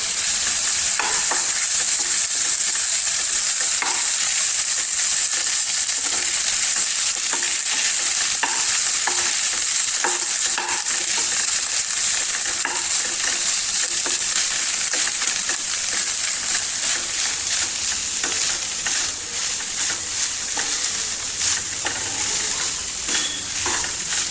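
Grated raw coconut sizzles and crackles in a hot pan for peanut-sesame laddu, with continuous close stirring and scraping and no voices.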